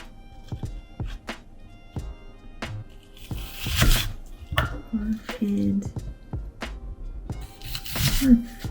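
A knife cutting food on a board, a series of close, sharp taps and crunchy slices, irregular in rhythm, with a person speaking quietly over parts of it.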